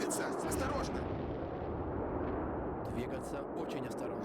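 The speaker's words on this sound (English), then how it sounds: "I think the artillery strike is more or less done" Artillery strike in the Combat Mission wargame: a dense, sustained rumble of distant shelling rolling steadily for several seconds, with brighter crackling bursts near the start and end under a voice.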